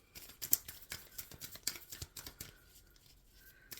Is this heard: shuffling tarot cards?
yes